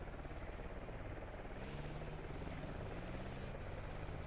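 A helicopter in the video game Yeho, a steady low rotor thrum with whooshing blade chop that holds at a moderate distance throughout and runs alone without talk.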